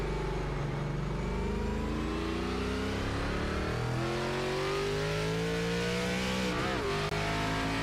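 Race car engine in an ARCA Series sim racing game at Sonoma, revving loud and close with rising and falling pitch through gear changes, a brief dip near the end before climbing again.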